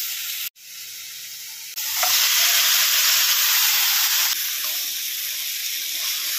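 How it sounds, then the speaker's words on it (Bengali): Mutton dropped into a pan of fried tomato paste with ghee bursts into loud, steady sizzling after a brief clatter, frying continuously, then easing slightly toward the end. "তো দেখো টমেটোটা ভাজা ভাজা মতো হয়ে গেছে। এবার ঢেলে দেবো মটনটা।"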